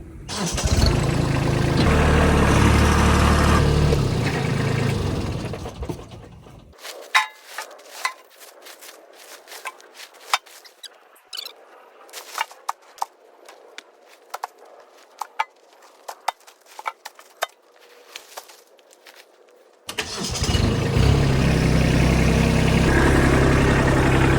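A Kubota tractor loads a bucket of trash, its engine running loud and steady at the start and end, with a stretch of scattered knocks, scraping and clatter from the bucket and debris in between.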